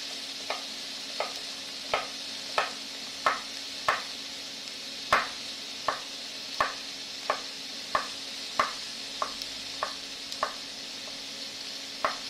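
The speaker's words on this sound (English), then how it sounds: "Now I'll slice it." A knife slices through food on a cutting board while cooking pad Thai, making about fifteen crisp, evenly spaced cuts in a steady rhythm, close and clear over a faint background hum.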